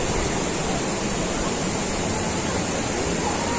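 Muthappan Puzha river waterfall in Anakkampoyil, Kozhikode, Kerala, a loud, constant roar of rushing water with no pauses.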